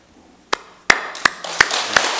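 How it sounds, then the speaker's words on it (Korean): Applause starts at a Buddhist monk's lecture hall: a few separate sharp claps build into a denser round of clapping from the audience, fairly close and loud. "박수 한번 더 보내세요"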